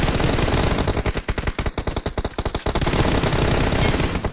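Rapid automatic gunfire from PUBG Mobile rattles in loud bursts, the shots packed tightly together and pausing briefly midway before resuming, with no voices over the firing.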